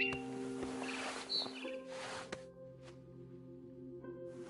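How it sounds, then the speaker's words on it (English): A barn swallow chirps outside a window in the video game What Remains of Edith Finch, with a few short, high, faint chirps scattered over a quiet hum of game ambience. "Then I heard chirping outside my window."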